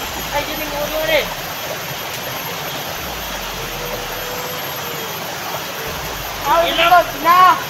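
A river flows with a steady, full rushing wash of water. Voices of people nearby break in at the start and again near the end.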